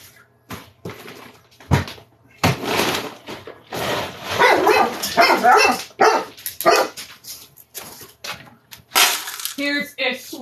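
A dog barks loudly and repeatedly in a home in sharp irregular bursts, sometimes whimpering, with people talking in between and over it.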